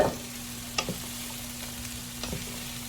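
Broccoli and red pepper sizzle softly in a pan with onions, a low continuous frying hiss broken by a few sharp scrapes and taps of a stirring utensil, heard close up with no talking.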